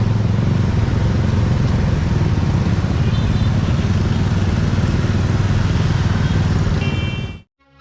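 Dense motorbike traffic fills a city street with a continuous, loud roar of many engines, steady throughout before cutting off abruptly at the end.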